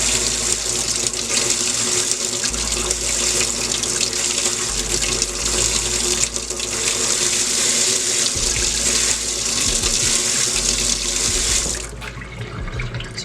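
Water runs from a faucet fitted with an aerator, a steady, loud, close hiss and splash that shifts slightly in tone near the end, with no talking.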